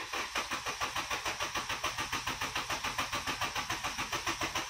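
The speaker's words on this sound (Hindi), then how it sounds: "अब मैं गाड़ी को स्टार्ट क्रैंकिंग करता हूँ" A diesel car's engine cranks in an emergency start attempt, the starter churning in a steady, rapid rhythmic pulse close by, loud and continuous without catching, no talking over it.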